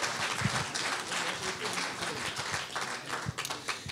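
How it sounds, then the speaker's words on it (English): A crowd at a low vision seminar and technology fair claps in a round of applause, a moderate, uneven patter of hands with a few cheers mixed in. "Round of applause for Herbert, please."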